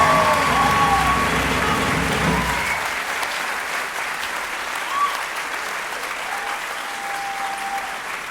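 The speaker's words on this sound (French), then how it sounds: "Et je vous demande de les applaudir." An audience at a student show applauds steadily, a dense wash of clapping that starts loud and slowly thins and fades over several seconds, with a voice briefly heard at the start.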